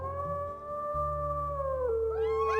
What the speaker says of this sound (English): Well, first I'm gonna howl.